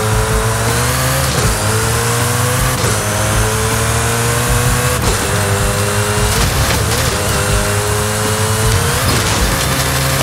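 A car in Forza Horizon 5 launching from a standstill and pulling hard, its loud engine note climbing repeatedly through the gears with a continuous roar and no talking.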